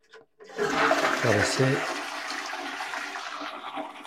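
A newly installed rimless WC toilet flushes in a loud, close rush of water that gradually fades as the bowl refills, with a brief voice audible near the start.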